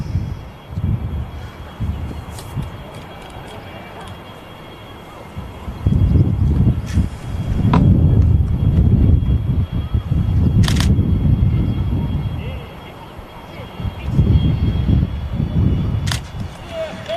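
A Qatar Airways Boeing 777-300ER arrives on approach and touchdown at Manchester Airport, a broad low engine roar rising loud and steady at mid-distance, swelling and easing twice, with occasional talk over it.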